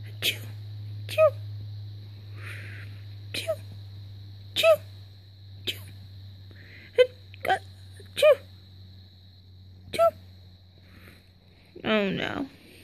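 A cartoon character catches a cold and sneezes repeatedly in an animated Skylanders episode, a series of short sharp sneezes spaced a second or so apart over a steady low hum, with a louder burst at the end.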